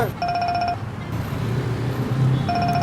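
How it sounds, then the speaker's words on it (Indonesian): A mobile phone rings in short repeated electronic tones, pausing and then starting again, over a low background hum and some movement noise. "Tuh, HP-nya bunyi."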